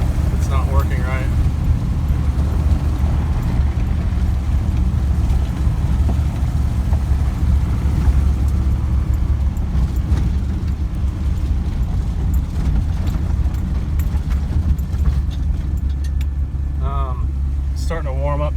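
The engine of a 1988 Land Rover Defender 127/130 runs and warms up with a constant, close, low idling drone, and a voice is heard over it.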